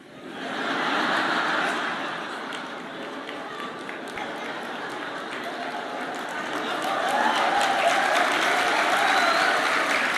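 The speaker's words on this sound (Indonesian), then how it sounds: "Belum sebut nama Anda sudah tepuk tangan." A church congregation at a Christian sermon breaks into sustained applause, a dense wash of many hands clapping that swells louder toward the end with a few chuckles scattered through it.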